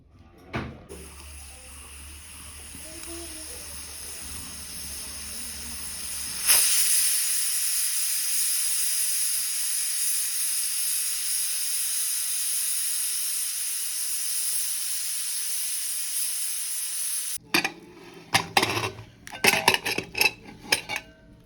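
A pressure cooker set on a wok hisses steam in a long steady jet while cooking beef, preceded by a little kitchen clatter and followed by clinking pots and utensils.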